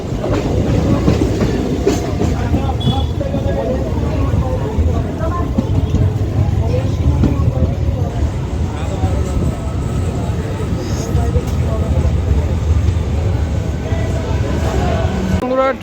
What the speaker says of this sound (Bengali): ট্রেন এখন আমাদের চলে এসছে